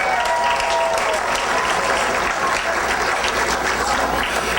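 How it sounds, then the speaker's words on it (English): An audience at the 2015 Miss Amador pageant breaks into dense, sustained clapping that stays loud and even throughout, with no voices. "So give them a big round of applause."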